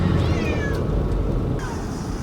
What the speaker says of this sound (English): It's meowing now that I stopped.